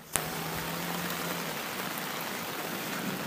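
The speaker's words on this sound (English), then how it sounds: "You took me out into the driving rain. There's a storm out here." A storm's driving rain pours down in a steady, loud, unbroken hiss from start to finish, opening with a brief knock.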